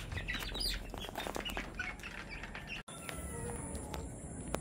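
A roundhead-type gamefowl rooster in a breeding pen gives soft clucks and short calls, with other birds chirping around it, near and fairly quiet, broken by a brief dropout.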